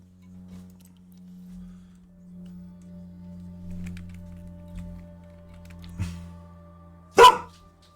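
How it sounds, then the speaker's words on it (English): A single dog gives one sharp, loud bark near the end, after a long stretch of quiet with a low steady hum and a few faint clicks. "Calm down, dog."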